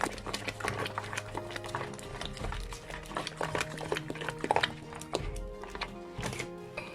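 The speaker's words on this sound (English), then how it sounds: "I'm going to give it a good stir" Dried okra soup sauce stirred in a pot, a busy close run of rapid clicking, tapping and scraping from the spoon against the pot, steady and uneven throughout with no talk.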